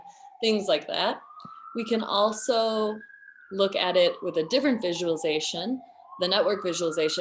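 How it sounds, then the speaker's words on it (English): A wailing emergency vehicle siren passes outside, rising and falling steadily across the whole stretch, heard faintly from a distance beneath someone talking close to the microphone. "Sorry about the sirens."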